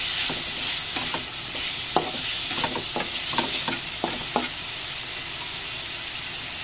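Creamy sopas being stirred in a pan over a soft steady sizzle, with a series of sharp spoon scrapes and knocks against the pan spaced through the middle, then easing into quieter frying.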